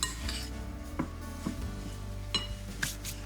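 Lamb pieces tossed and stirred in a spice mix in a bowl, giving soft scraping and shuffling with a few sharper clinks of utensil against dish, close and fairly quiet.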